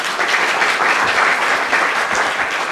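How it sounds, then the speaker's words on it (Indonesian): Steady, dense applause from a large television studio audience, loud and continuous throughout with no pauses. "Boleh kita minta tepuk tangannya sekali lagi?"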